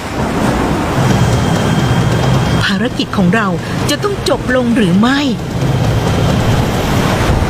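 Heavy wind roars constantly with rain and rough sea water off Palawan, while someone speaks loudly over the storm in the middle of the clip.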